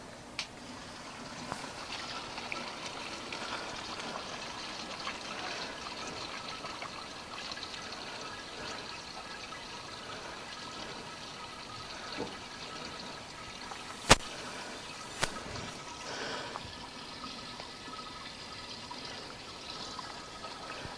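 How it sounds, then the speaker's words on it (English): Water runs steadily down the sides of a simple homemade garden water feature, a continuous close trickle and splash with a couple of brief sharp clicks partway through. "As you see, water runs down the sides."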